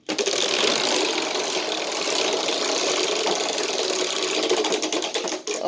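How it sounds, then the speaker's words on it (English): A homemade Wheel of Fortune model wheel spins steadily, giving a continuous whirring, clicking mechanical rattle at close range that holds for several seconds, then cuts off abruptly. "So let's get this wheel a few spins"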